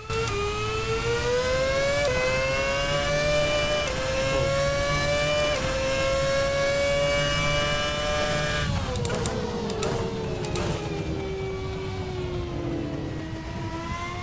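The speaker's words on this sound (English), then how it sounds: "It's quite nice hearing a V8 in a Formula 1 car." A V8 Formula 1 car engine in a video game screams steadily at high revs, pitch climbing through gears, then dropping as it downshifts, continuous and loud.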